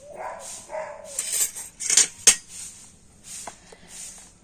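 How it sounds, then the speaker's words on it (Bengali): A mixer jar being rinsed out with water during flatbread batter preparation, heard as close clinks and knocks of the jar, sloshing splashes and a couple of sharp metallic taps. "আর এবারে মিক্সি জারটা একটু ভালো করে ধুয়ে আর জলটা নিয়ে নেব"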